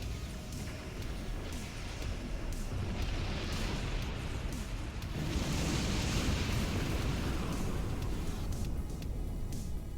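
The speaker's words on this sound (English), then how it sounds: "That should absolutely kill me. Explosion of that magnitude." A large explosion in Star Trek Online rumbles as a sustained, dense roar with a swelling burst midway, moderately loud and continuous, with no talking.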